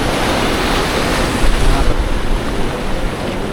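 Waves breaking on a hidden beach at Watunene in Gunungkidul, a loud continuous roar of surf with wind noise buffeting the microphone, swelling briefly in the middle with no talking.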